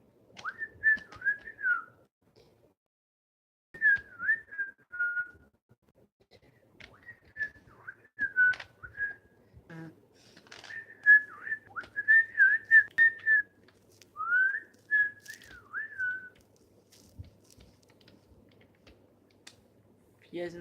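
A person whistles the melody of a song in short, tuneful phrases with brief pauses between them, fairly close and clear, over faint background noise.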